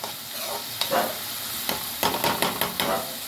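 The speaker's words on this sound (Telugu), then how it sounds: "ఉల్లిపాయలు బాగా వేగాలి, బ్రౌన్ కలర్ రావాలి." Onions frying in a pan for chicken curry, a steady close sizzle with repeated stirring scrapes and clatters of a spoon through the pieces, no talking.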